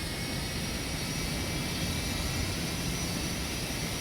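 Airliner taxiing in the X-Plane 11 flight simulator, a steady broadband engine roar and hiss from an outside view, constant and unchanging throughout with no voices.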